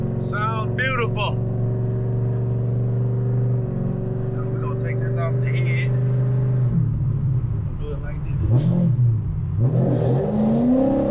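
A modified 500-horsepower Pontiac G8 engine revs and accelerates from inside the car, a loud steady drone with pitch changes, with people talking over it.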